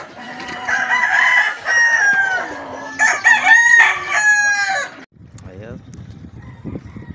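Chickens and roosters in a tree-shaded poultry yard crow loudly in long, strained calls, one after another, followed by softer clucking and scattered bird sounds.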